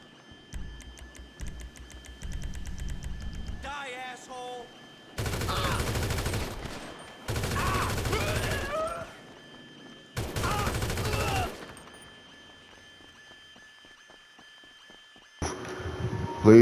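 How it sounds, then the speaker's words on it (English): Bursts of automatic gunfire in GTA V Online, several loud sustained volleys of a few seconds each separated by quieter gaps, with brief mechanical ticking at the start and a final short burst at the end. "They shoot me through the wall."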